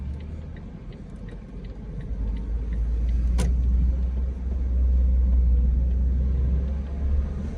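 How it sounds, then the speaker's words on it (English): A Lexus missing its hood drives past on a Kansas City neighborhood street, heard as a steady low rumble of engine and road noise that swells in the middle, with one sharp click, and no voices. "There's a vehicle driving by us with no hood."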